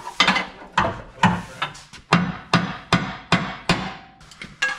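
A part is hammered into a rat rod wrecker's transmission: about ten loud, evenly spaced metallic taps ring out close by, each with a short clanging decay.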